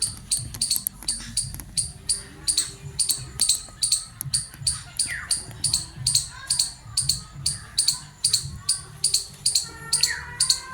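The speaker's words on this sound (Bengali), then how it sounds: "পাখির ডাক।" Repeated bright bird chirps ring out in a steady rhythm across a forested temple ground where storks and egrets gather and bats hang in a distant tree, with other calls and low rumbling ambience beneath.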